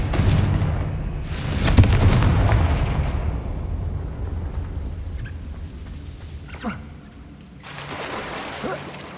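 A Confringo fire spell from Hogwarts Legacy bursts loudly into a booming explosion, then rumbling blasts fade, followed by smaller whooshing spell effects amid game ambience.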